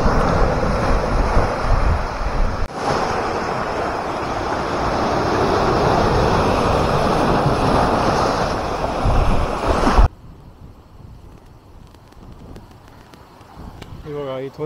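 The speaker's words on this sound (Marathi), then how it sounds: "एकावर एक अशा ह्या लाटा आहेत अशा येत आहेत इथपर्यंत." High tide waves at Gorai Beach, Mumbai: loud, continuous surf and rushing water buffeted by wind noise for about ten seconds, then dropping to a quiet background.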